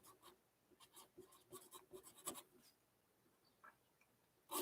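A pen writing a note by hand, a quick series of faint, close scratching strokes with short pauses, then a louder click at the end.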